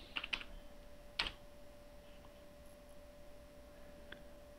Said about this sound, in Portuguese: vamos digitar YouTube